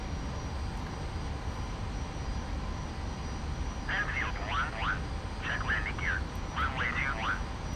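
An F-86 Sabre jet engine in the DCS flight simulator hums with a steady, moderate whine as the throttle eases up, while someone talks over it in short bursts.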